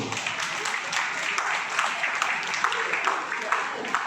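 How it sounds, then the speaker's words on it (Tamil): An audience at a 2024 Bharathi festival award ceremony gives sustained applause for the Chellamma Bharathi award, a dense, continuous wash of clapping from a crowd with a voice faintly underneath. "உங்களது பலத்த கரகோஷத்தோடு"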